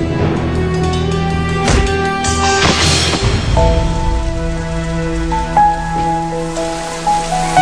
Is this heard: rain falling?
yes